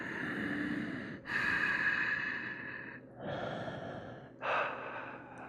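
Slow, deep breaths during a yoga pose in a class, several long inhales and exhales, close and clear, with no talking.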